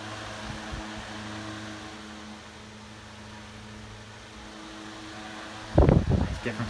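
A c. 1912 12-inch Robbins and Myers List 1153 Gearback antique electric fan runs at medium speed, a steady close mechanical hum and whir with a faint tonal drone, before a burst of nearby handling or voice near the end.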